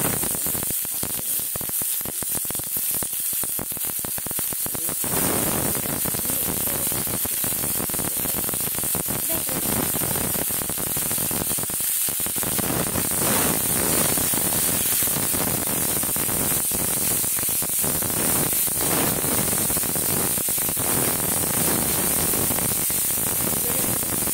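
Chopped onion and coriander fry in a pan for a paratha filling, giving a steady, dense sizzling hiss that runs unbroken at an even level throughout.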